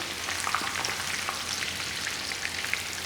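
Cauliflower fries in hot oil, giving a steady close crackling sizzle with small pops throughout, alone without talk.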